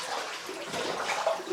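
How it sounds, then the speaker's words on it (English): Water sloshes and splashes through a flooded mine passage, a steady close wash with a few brighter slaps near the end and no talk over it. "Oh, there's quite a bit of water here."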